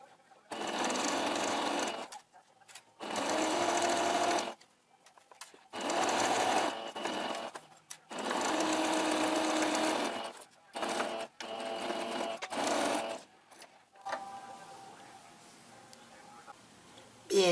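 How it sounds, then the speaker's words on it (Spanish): Sewing machine stitching a one-centimetre seam to close a turtleneck poncho collar, running in several loud bursts of a few seconds each, separated by short pauses, with a quieter handling sound near the end. "Vamos a cerrarlo en esta parte, cosiendo aquí con un centímetro de costura."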